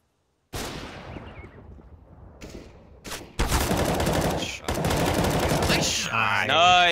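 Gunfire in a multiplayer shooter game: a single shot, then sustained rapid automatic bursts that rattle loudly up close. A brief whooshing effect follows at the end.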